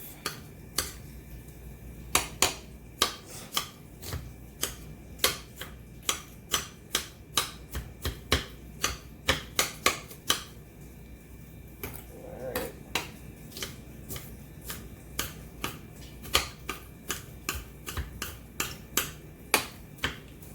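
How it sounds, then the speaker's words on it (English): A knife chops an onion into chunks on a cutting board, giving a long run of sharp, close knocks at a steady, brisk rhythm with brief pauses, and no talking. "now we got all our onion all chopped up like we need it to be"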